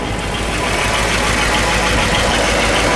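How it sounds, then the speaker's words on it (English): The original engine of a 1959 Ford Galaxie 500 runs steadily up close, a loud continuous idle with an even mechanical chatter and no talking. "So the motor runs great"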